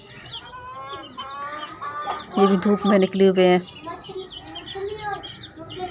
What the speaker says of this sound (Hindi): मुर्गी ने चूज़े दिए, अपने चूज़े साथ लेकर घूम फिर रही है